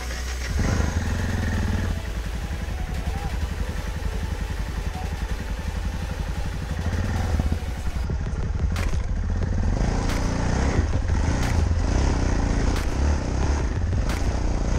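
Yamaha Tenere 250 and 660 motorcycles riding through a shallow flooded rocky stretch, a continuous loud engine drone with clattering and scraping over stone, plus splashing bursts in the later half.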